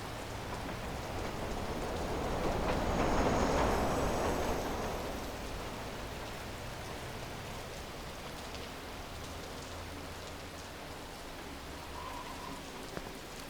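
Steady rain falling on a night-time Chicago train station in the video game Watch Dogs, with a low rumbling swell rising and fading early on as a train pulls away, leaving a constant hiss of rain.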